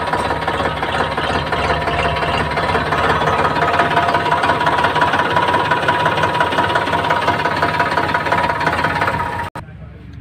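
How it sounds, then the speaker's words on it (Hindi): A used Sonalika 35 tractor at a rural tractor market idles with a steady, loud, knocking diesel rumble for about nine seconds before it drops away abruptly. "देखिए दोस्तों कितनी गजब आवाज़ है ट्रैक्टर की"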